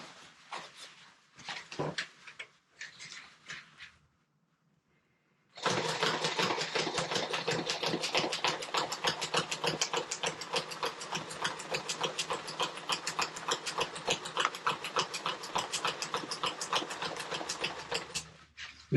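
A fast commercial sewing machine driven by a servo motor and turned down to its lowest speed, stitching sailcloth for a small jib sail; a few short bursts, a brief pause, then a long, even run of rapid mechanical ticking, close and fairly loud.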